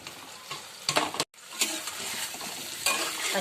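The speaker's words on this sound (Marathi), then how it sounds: "चला मस्त परतून घेऊया" Okra is sautéed in masala in a pan, with a close, steady sizzle and repeated scraping strokes of a spatula, broken by one brief pause.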